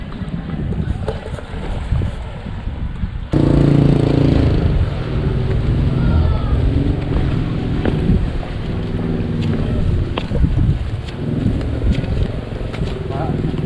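A boat motors across open water toward Pulau Kunti, its engine and hull wash rumbling loud and close, buffeted by wind gusts against the microphone, with people talking over it.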